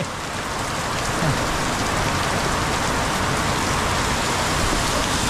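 Heavy rain pours down steadily and loudly in a dark outdoor setting, a dense, unbroken hiss of drops hitting surfaces close by, with no voices over it.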